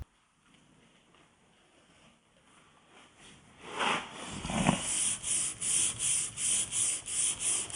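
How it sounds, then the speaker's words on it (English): Rhythmic sanding strokes start faint and grow louder, settling into a steady back-and-forth rubbing rasp, close by and alone, sanding the body of a 1964 Volkswagen under restoration. "let's get to sanding"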